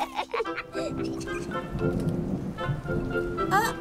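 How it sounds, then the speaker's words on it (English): Rain patters steadily on a surface, mixed with cartoon music and brief voices over the top. "Maybe we should go inside before it starts to rain too much."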